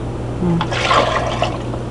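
A cup of water is poured into a blender for a low-carb frappuccino, giving a short splashing gush of liquid about a second long over a steady background hum.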